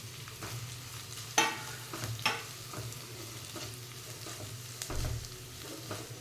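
Green chillies tipped into a pan of onions frying until translucent for palak paneer, giving a steady low sizzle with a few sharp stirring clacks and scrapes of a spoon against the pan.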